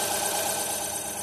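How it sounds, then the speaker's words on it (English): A Denford Novaturn CNC lathe's spindle runs at steady speed, a continuous even whir with a faint mechanical hum, close and unbroken with no talk. "So next job is start the spindle."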